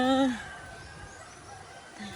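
A rooster's crow trails off at the start, followed by quiet outdoor background with a faint low tone at the end.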